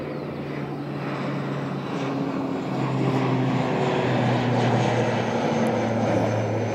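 ATR turboprop airliner taking off on a low climb, a sustained droning propeller roar with steady tonal hum, moderately distant and growing slightly louder, with no talk over it.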